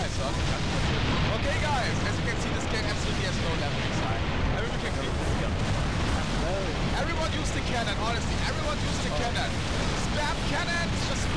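Cannon fire in the Serious Sam HD: First Encounter shooter, a dense, continuous barrage of booming blasts and rumble with no pauses, while players talk over the din.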